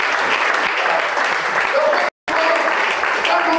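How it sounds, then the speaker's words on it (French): A church congregation breaks into loud, continuous applause during an evening prayer and fasting service. The clapping is dense and close, with a very brief cut partway through. "Acclame Jésus."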